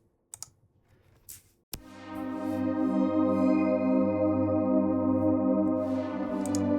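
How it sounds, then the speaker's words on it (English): A synth pad from the Glass Pads library swells in after a few faint clicks, holding a rich, sustained glassy chord that stays loud and steady to the end. "Then the pad is from Glass Pads."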